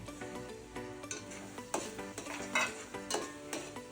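Chopped tomatoes tipped into a hot pan of pav bhaji masala and stirred, giving a steady sizzle with repeated spoon scrapes and taps against the pan, close and fairly loud with no talking.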